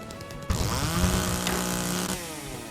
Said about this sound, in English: Because it's a chainsaw. Well, it's in a video game.